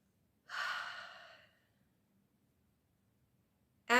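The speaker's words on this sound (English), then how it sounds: "So let's take a deep breath." A single long, deep inhalation, close and breathy, lasting about a second before fading into quiet, then a voice begins to speak at the end.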